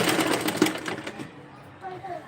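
A sewing machine stitches a stone-embellished work dress along a two-inch seam margin, running close and loud in a fast, steady burst of needle clatter for about a second before stopping as a quieter voice speaks.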